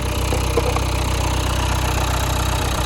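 A steady, rough engine idling close by, a constant low rumble with a faint rhythmic knock and no voices.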